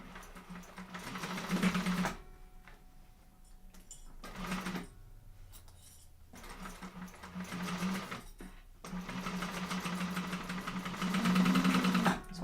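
A sewing machine stitches the lining seam of a fabric sling bag in several sustained runs, with brief stops between them. The motor hum is steady and fairly close.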